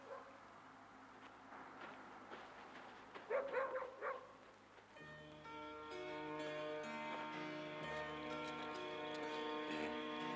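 A dog gives a few short, yappy barks in a quiet night street scene from a 1972 film, followed by music rising beneath.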